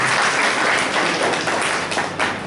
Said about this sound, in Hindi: खुशी को ताली बजाइए भाई